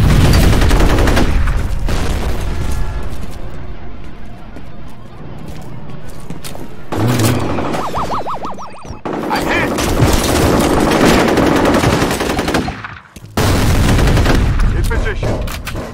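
Heavy automatic gunfire from the shooter game F.E.A.R. fills nearly the whole stretch in loud, dense bursts with booming impacts, broken by a brief lull near the end before firing resumes, with voices shouting over the combat.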